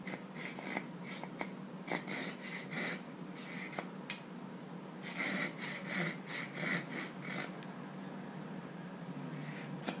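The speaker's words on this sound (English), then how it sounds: "So I think I'm going to try to saw them the rest of the way and sand them off." Hand sawing through padauk wood on a lathe: a steady run of rasping back-and-forth strokes, close and moderately loud, with brief pauses between bursts.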